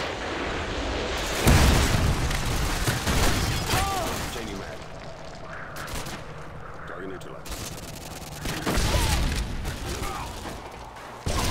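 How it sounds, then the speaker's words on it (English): Predator missile strikes in Call of Duty: Modern Warfare 2 multiplayer, heavy booming blasts and rumbling impacts under continuous gunfire, loudest bursts near the start and again toward the end, with game chatter mixed in. "Friendly Predator missile inbound."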